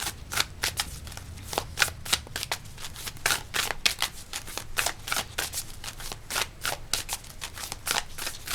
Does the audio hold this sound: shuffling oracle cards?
yes